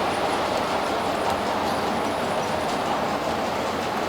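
A sound-fitted model railway locomotive runs along a layout, giving a steady, even hiss-like rumble of running noise with faint light ticks throughout, no voices.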